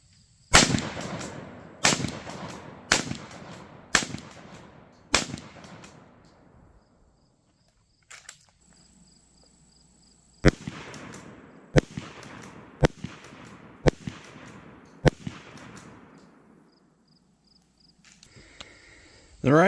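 A 12 gauge shotgun loaded with number 8 shot fires at watermelons outdoors, a string of sharp, loud blasts spaced a second or two apart, each trailing into an echoing decay, with quieter handling sounds between volleys.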